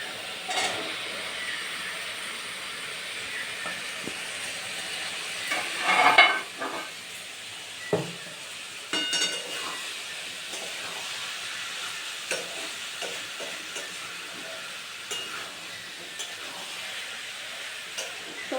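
Boiled potatoes and peas go into frying masala in a pan for ghugni and get stirred, a soft continuous sizzle with a louder scrape and clatter of stirring around the middle and a few later knocks.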